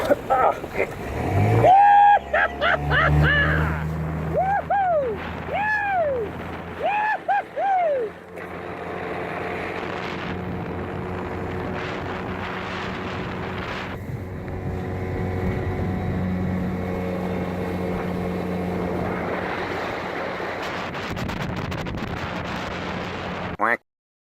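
A boat's 15 horsepower Mercury outboard motor revs up and then settles into a steady drone across the water, after some brief whooping voices at the start.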